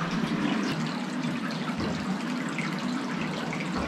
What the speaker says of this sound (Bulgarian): Навътре се чува и водопад,